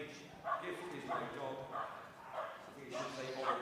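A small/medium dog barks its excitement during a championship agility jumping run at Crufts, with several sharp yips spaced through the clip over steady arena commentary and crowd noise.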